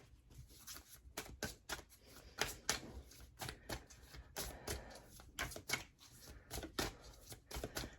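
Close, quiet riffling of a twin flame ascension tarot deck, a rapid run of papery card flicks and soft slaps in uneven bursts with no talk.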